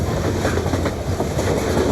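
Blackreach Railroad metro train on the move in Skyrim: a steady, loud rolling rumble with faint rhythmic wheel clatter, running continuously and close without any break.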